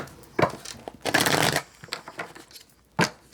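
Tarot cards are shuffled by hand in three rustling bursts: a short riffle, a longer dense one in the middle, and a final quick one, each close and crisp with quiet pauses between.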